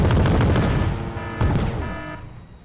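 Artillery fire in the strategy game Wargame: two heavy booming shots about a second and a half apart, each with a ringing tail that fades out, no voices.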